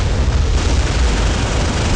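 Ship cannons firing in Modern Warships, a loud dense blast that fills the whole moment with a sustained rumbling roar, no voices.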